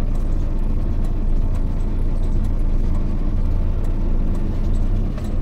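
A car engine idles steadily with a low, even hum throughout, close by and constant, during a first driving lesson in a manual car; no talk is heard over it.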